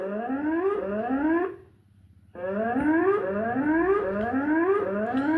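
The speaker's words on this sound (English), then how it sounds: "It has just started making an alarm." A 4G security camera's electronic alarm siren wails in rapid rising sweeps, loud and continuous, cutting out briefly for about a second before resuming.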